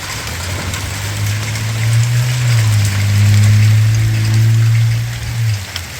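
Steady rain patters on a metal roof, while a low droning hum swells and fades beneath it.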